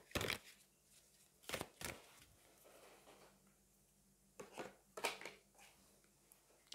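Oracle cards are handled and drawn, producing scattered sharp flicks and soft shuffling snaps at close range, with quiet gaps between them.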